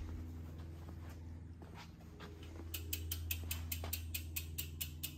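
A bolt being tightened on a Fezzari Wire Peak e-mountain bike during assembly, heard as a close, quick run of small metallic ratcheting clicks over a low background hum.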